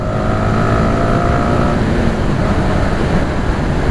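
A Honda Supra GTR 150 motorcycle engine shifting into fourth gear on a test drive, a loud, steady roar with a rising tone that settles into a continuous drone mixed with wind rush.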